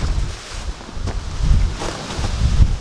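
Gusty wind buffeting an outdoor canopy, low rumbling blasts that swell and ease in waves, close to the microphone with no voices.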